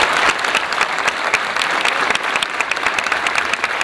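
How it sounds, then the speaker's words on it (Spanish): Audience applause at an Argentine barbecue championship honoring Argentine beef, a steady, dense clapping from a sizable crowd that holds loud and even throughout. "un fuerte aplauso para la carne argentina"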